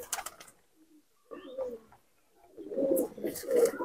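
Malwai pigeons, a Punjabi breed, coo in low throaty bursts near the mic, a short call early on and a louder rolling coo toward the end, with faint chirps between.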